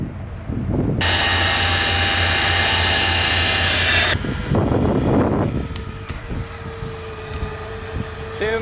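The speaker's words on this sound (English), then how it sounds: "we're gonna winch it out" An electric winch hooked to a 4x4 drags a tree out of the ground on rural property, giving a loud, steady motor whine for about three seconds, then a burst of creaking and straining followed by a quieter rumble.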